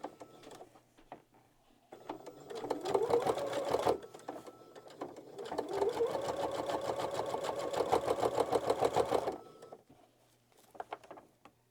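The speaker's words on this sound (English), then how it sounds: "So just kind of get it going under your machine, and then once you get it kind of going, you can back stitch and then continue sewing." Sewing machine stitching a composition notebook cover, running in two steady bursts of fast, even needle chatter separated by a short pause, with small handling clicks before and after and no voices.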